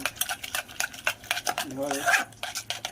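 Food being mashed and stirred in a pan on a gas stove, brisk repeated scraping and clinking of a utensil against metal, close and fairly loud, with a voice briefly speaking in the middle.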